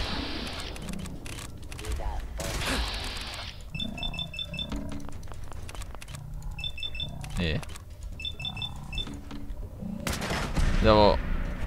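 Gunfire in the video game Fallout 4: short bursts of shots with bright clicking weapon sounds, repeated a few times among game effects and creature roars, with people talking over it.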